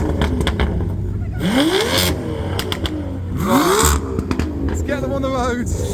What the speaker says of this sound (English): Chiron's revving as well, but you can barely, yeah, you can kind of hear it